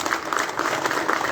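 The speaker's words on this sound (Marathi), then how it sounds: "जोरदार टाळ्या झाल्या पाहिजे." A crowd at a Tipu Sultan Jayanti gathering in Phulambri applauds loudly, a continuous dense clatter of many hands, close and sustained through the short stretch.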